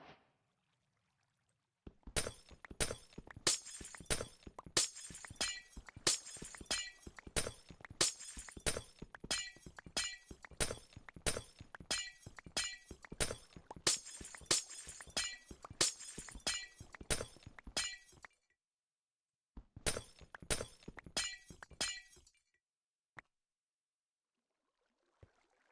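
Glass blocks breaking in Minecraft, a long rapid series of crisp shattering clinks in quick succession, with a short pause and then a final few breaks.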